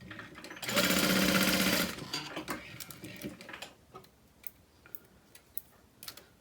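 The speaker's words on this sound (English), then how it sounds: "And then top stitch along either side." A sewing machine runs in one steady burst of about a second, top stitching a half-inch wristlet strap, close and rhythmic, followed by quiet handling clicks.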